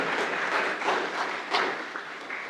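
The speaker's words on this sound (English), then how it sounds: "I would like you all to give your teachers a round of applause for believing in you" An audience at a high school charrette event claps for their teachers, a continuous patter of applause at moderate volume with a few sharper claps standing out.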